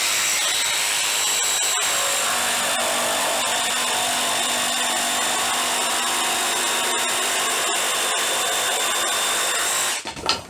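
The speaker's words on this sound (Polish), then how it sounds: "Teraz robię drugie Szybkie cięcie bez odkurzacza" An Einhell Professional TP-JST 18/135 Li BL brushless cordless jigsaw cuts steadily through a wooden board with a continuous high-pitched buzzing whine, loud and close, stopping abruptly near the end.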